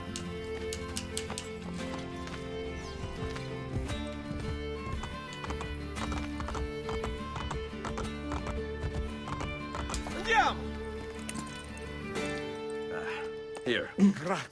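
Rapid rhythmic hoofbeats of galloping horses in Assassin's Creed: Brotherhood over a steady game music score, with a horse whinnying a couple of times near the end.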